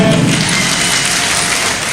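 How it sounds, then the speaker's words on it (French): Crowd of UFDG party activists applauding at a general assembly, a dense steady wash of clapping filling the whole moment at close range without pause. "Applaudissez pour vous-même."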